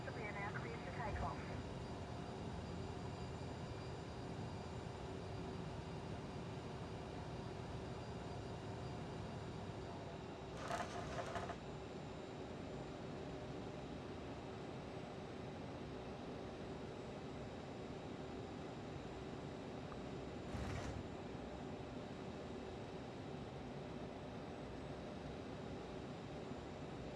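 An airliner in a flight simulator game, on a flight from JFK to Burlington, makes a steady, loud engine roar for takeoff. The drone holds even throughout, with a couple of brief clicks over it.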